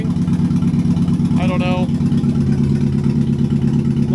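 A car engine idles steadily after a misfire repair, giving an even, close, low hum with a smooth rhythm throughout and a short spoken remark partway through.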